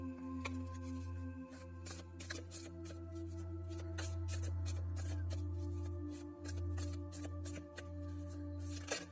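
Tarot cards shuffled from a deck by hand, giving a close run of quick papery riffles and flutters that repeats across the clip over a steady low room hum, with no talking.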